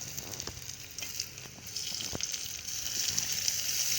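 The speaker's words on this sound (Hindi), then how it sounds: "ये मैं ना टमाटर डाल रही हूँ बारीक बारीक काट के।" Finely chopped tomatoes drop into a pan of lightly browned onions frying for a brain masala dish, a soft sizzle rising and spreading with faint stirring scrapes, close and steady, with no talk.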